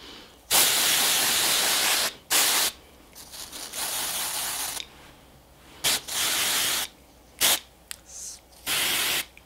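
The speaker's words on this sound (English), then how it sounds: "I like to take some Magic Root Cover Up and I'll spray in any like sparseness." Magic Root Cover Up hair spray is sprayed along a hairline in a series of sharp hissing bursts of uneven length, loud and close, separated by brief quiet gaps.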